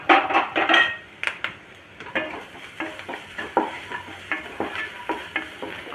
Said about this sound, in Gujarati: પકાવવાના નથી પણ ખાલી સોતે જ કરવાના છે થોડા